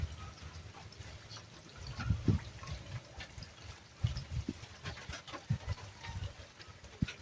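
Water is poured into a cooking pot to soften the meat for a rainy-day soup, heard as soft, uneven splashing and trickling with a few sharper glugs.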